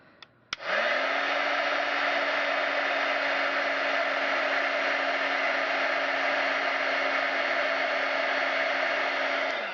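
A heat tool clicks on and blows a loud, steady whirring rush of hot air to melt stick powder, running continuously close by with no talking.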